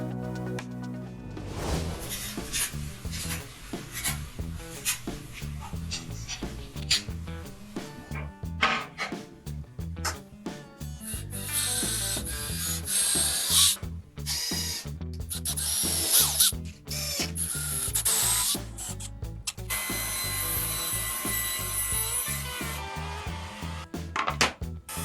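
A CNC engraving machine carves wood with a whirring, drill-like spindle whine and choppy cutting bursts that stop and start repeatedly, set against steady background music.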